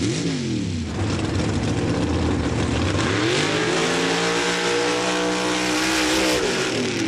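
Mud drag truck engine roaring at full throttle down a drag lane at a mud truck event in Laporte, Indiana, loud and close, with rising revs, a brief dip, then another sustained climbing scream.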